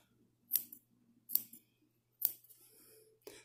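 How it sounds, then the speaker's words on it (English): Small scissors make three distinct, close snips through fabric seam allowance on a sewn cloth face mask, each a crisp metallic cut separated by brief quiet, with a fourth shorter snip at the end. "I take a little scissors and I snip, snip, snip, snip, snip along the seam allowance on the curve"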